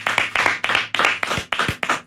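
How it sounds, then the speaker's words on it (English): A short burst of hand clapping at a sports radio show, about eight quick claps in a steady rhythm from a few people nearby, with no talking over it. "big round of applause"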